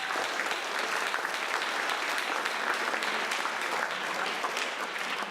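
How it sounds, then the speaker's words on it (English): Audience applause for volunteers at a college State of the College address, steady dense clapping from a large crowd filling the hall evenly for several seconds without a break. "or give them a round of applause."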